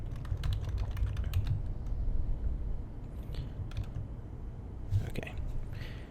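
Fingers typing a keyword on a computer keyboard, a quick run of close key clicks at the start and a few more taps later, under a low background rumble and brief soft speech.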